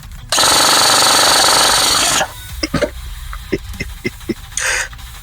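An LDT MP5-SD6 airsoft gun with an LDX Advance 3.0 gearbox and big springs fires a loud, continuous two-second burst of rapid buzzing cycles, followed by scattered clicks and a short mechanical whir.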